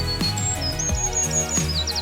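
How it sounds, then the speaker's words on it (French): A common chaffinch sings a few clear, high whistled phrases over a low, steady tonal background, with short trills near the end. "Réponse, un pinson des arbres."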